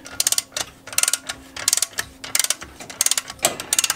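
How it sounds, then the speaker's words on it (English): A ratchet wrench tightening a camper wheel chock stabilizer between tires, sharp rapid clicking in short repeated bursts, close and fairly clear with brief pauses. "Take the wrench."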